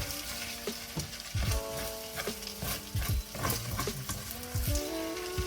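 Egg fried rice made from leftovers sizzles in a hot pan while being stirred, with continuous frying crackle punctuated by repeated scraping and clinking strokes of a utensil against the pan.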